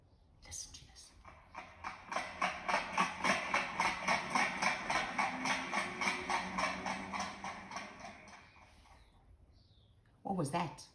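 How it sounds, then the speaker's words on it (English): Horse trotting with a steady, even clip-clop of hooves lasting about eight seconds, moderately close and clear, followed by a short burst of other sound at the end. "That was a horse trotting."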